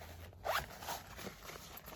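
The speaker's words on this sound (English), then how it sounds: "These are my little zip bags I make." A zipper slides open on a small handmade zip bag in a cold winter camp, one quick close rasp followed by softer fabric rustle, quiet with no talk.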